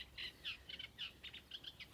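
Small garden bird, a songbird the Dutch call a pietje, chirping outdoors in a quick series of high, bright chirps spaced by short pauses, fairly faint against quiet outdoor background, with no voices.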